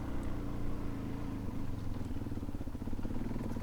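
A Suzuki DR-Z400S dual-sport motorcycle climbs trail switchbacks in Washington State, its engine a steady, close, continuous drone throughout with slight shifts in load and no talk over it.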